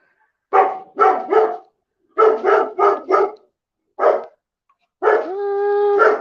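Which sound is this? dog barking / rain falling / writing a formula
dog barking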